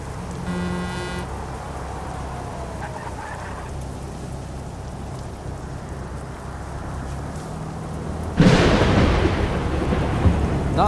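Steady rain hisses in Euro Truck Simulator 2 over a low drone, with a brief tonal blare at the start. Near the end a loud thunderclap crashes in and rumbles on.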